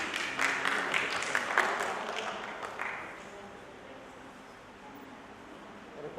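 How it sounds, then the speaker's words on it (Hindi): Audience applause greets a speaker being welcomed at a seminar, loud at first and then thinning into scattered claps before fading into quiet room tone. "जोरदार तालियों से स्वागत करें"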